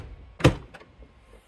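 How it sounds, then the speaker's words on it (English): A single solid thunk of an Autozam AZ-1's door shutting nearby, brief and alone, followed by a faint softer knock and quiet. "I can close the door."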